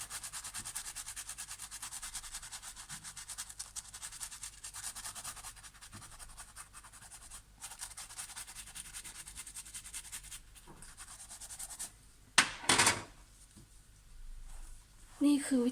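Wild mushrooms gathered in the rain are scrubbed dry with a clean toothbrush, Italian style, without water: a steady, close bristly rubbing that runs throughout, with a louder scraping burst near the end.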